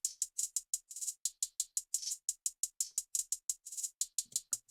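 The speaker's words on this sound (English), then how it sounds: "Trap hi-hats, which sound like this." Trap hi-hats from an EDM worship track tick out crisp, bright, closely spaced hits in a steady rolling pattern, playing alone and clear.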